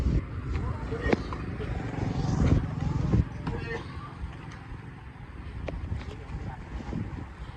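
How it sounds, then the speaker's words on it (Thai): Strong wind sweeps across open ground near a pond, a steady broadband roar buffeting the microphone that swells in gusts around the middle and eases toward the end. "ลมมันยิ่งแรงอย่างยิ่งใกล้หนองน้ำ"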